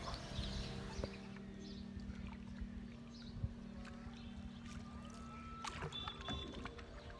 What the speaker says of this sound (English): It's 6:30 and I'm going to take the boat out.